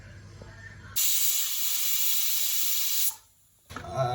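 A pressure cooker whistle releases a loud, sharp hiss of steam for about two seconds while cooking beetroot pulao, then stops abruptly, followed by quieter kitchen sounds.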